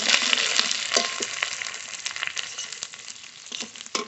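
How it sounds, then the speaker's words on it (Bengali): Water poured into a pan of fried potatoes and spice paste gives a steady, loud sizzle with crackling bursts, close and continuous throughout without talk. "এবার জল দিয়ে দেবো"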